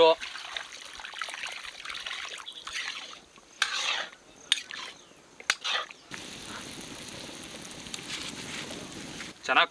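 Water is poured into fish masala frying in a pan for Karimeen sukka, a splashing trickle that gives way to a steady sizzling bubble, with some voices and clatter around it.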